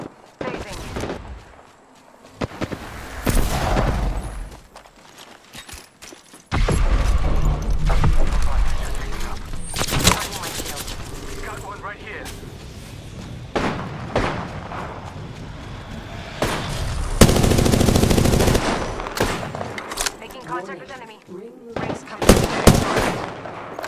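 Gunfire in a battle royale video game, with bursts of rapid automatic shots and single cracks scattered through loud battle noise, while a player talks over the action.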